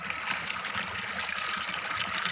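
Water flowing along a canal, a steady close rushing and gurgling that stays even throughout with no voices.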